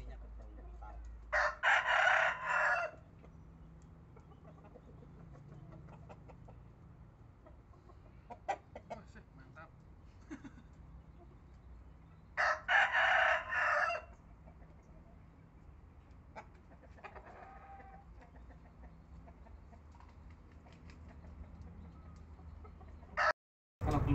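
A rooster kept among pet chickens crows loudly twice, several seconds apart, with soft clucking and scattered farmyard noises between the calls.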